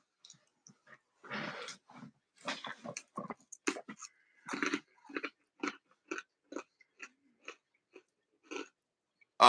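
Someone chews crunchy pretzel sticks inside a car, each bite a sharp, close crunch in an irregular rhythm separated by short silences.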